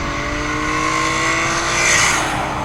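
Infiniti G37 sedan fitted with Stillen long tube intakes, engine held at a loud, steady high rev with a raspy intake roar and rising whine, close up and without talk.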